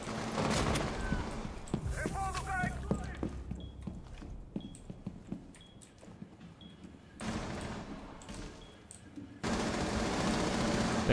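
Rapid bursts of gunfire crackle in a frantic firefight in the game Rainbow Six Siege, with clattering footsteps and mixed in-game noise, the shooting loud and close in stretches with quieter gaps between.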